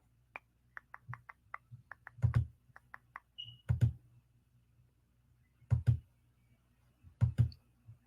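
Keypad keys clicking during screen sharing, a series of sharp isolated taps spaced irregularly, with a few louder thumping knocks between them, close and fairly quiet with no talk.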